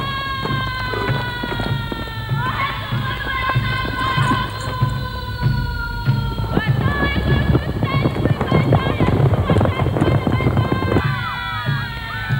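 Marquesan horses gallop with quick, overlapping hoof clip-clops in a lively outdoor scene at a 1958 governor's visit in Tahiti, the hoofbeats steady under music and crowd voices.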